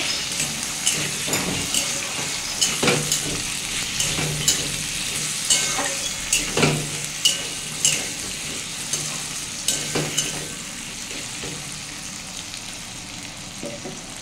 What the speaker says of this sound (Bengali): এর মধ্যে সামান্য একটু হলুদ দিয়ে আলুটাকে ভালো করে ভেজে নেব